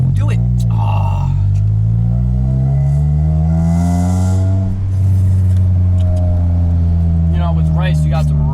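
A 2003 Honda Civic EX coupe with a manual gearbox and aftermarket exhaust launches hard, its engine note climbing loud and close through the gears as people talk over it inside the car.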